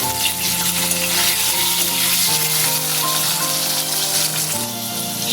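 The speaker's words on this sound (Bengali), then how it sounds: "পটল ভাজার তেলে এবার আলুগুলো ভেজে নিচ্ছি।" Long-cut potato strips sizzle loudly and continuously in hot oil previously used for frying pointed gourd, a dense close frying hiss with light stirring and soft background music underneath.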